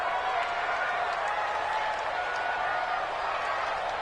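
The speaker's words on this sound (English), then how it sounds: "the crowd getting into it as we come up on a big 3rd down" A football stadium crowd roars and applauds before a big third down, a dense, sustained wash of cheering and clapping that stays fairly distant and even.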